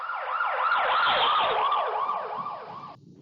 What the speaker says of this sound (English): the same effect is heard with fire engines and ambulance sirens